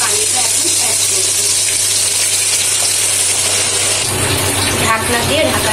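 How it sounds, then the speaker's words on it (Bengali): Spiced water is poured into a hot pan of frying hilsa fish in mustard oil, giving a loud, steady rush of sizzling and bubbling that carries on under a constant background hum. "মাছের মশলা দিয়ে সেই পানিটা এখন অ্যাড করব।"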